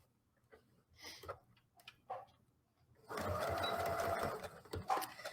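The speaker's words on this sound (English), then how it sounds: "I'm just going to sew down one long edge and one short edge to make this produce pouch." A sewing machine stitches a beeswax wrap produce pouch. A few short bursts are followed by a steady, loud mechanical whirring run in the second half, with no talking.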